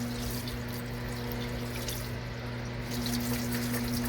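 Water back-flushed through head stud holes on a 12-valve Cummins engine, a steady spraying hiss over a constant low machine hum, close and continuous without talk.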